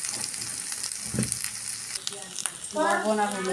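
Okra dropped into hot oil sizzles and fries steadily in a pan, a constant hiss with some stirring scrapes, growing louder near the end.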